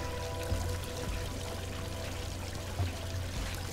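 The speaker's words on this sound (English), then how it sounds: "The water fills up, we're all done for." Water filling and pouring in the puzzle-platformer Unravel, a steady rushing, churning wash that runs continuously at moderate level with a couple of low surges, with no voices over it.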